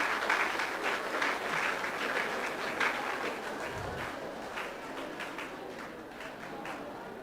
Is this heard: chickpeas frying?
no